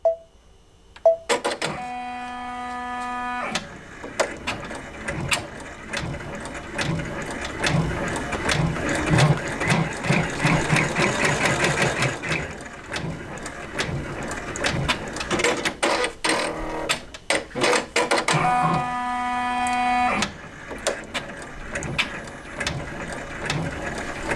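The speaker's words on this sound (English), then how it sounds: "And now it's going to stitch those 2 tack downs." A home embroidery machine runs steadily, stitching two tack-down lines on a hooped quilt block for a vintage butterfly quilt, a rapid mechanical chatter with brief stops and starts at the beginning and near the end.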